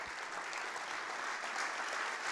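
An audience at a literary event's closing session applauds booksellers and publishers, a steady, dense burst of clapping from a crowd heard alone and fairly far off.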